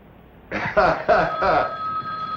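An old-fashioned telephone bell rings in a burst of four quick rattling pulses, fairly close and clear, with a faint tone lingering after.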